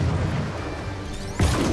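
A loud, booming blast erupts near the end after a steady rumbling soundscape in Just Cause 3, a heavy DLC launcher weapon firing.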